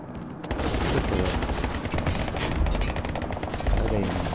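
Dense rapid gunfire in the online shooter Ballistic Overkill, with automatic weapons rattling in fast continuous bursts at close range after a brief quiet opening.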